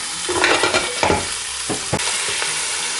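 Beef cubes and a marrow bone drop into a hot Instant Pot for a beef stew, with clear thuds and a loud sizzle, then scraping and stirring at close range, with no talking.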